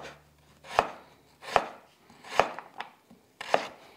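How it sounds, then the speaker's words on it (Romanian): A knife cuts through two or three stacked vegetable slices into thin strips on a cutting board, giving about five crisp, evenly spaced chops up close with no talk. "Așezăm 2-3 felii una peste alta și le tăiem în fâșii subțiri."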